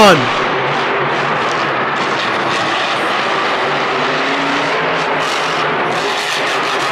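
The Bad Company monster truck roars through a jump over the racing lane at a Monster Jam show in Arlington, a loud, sustained engine blast that opens with a sharp rev, while an announcer's voice sounds under the din.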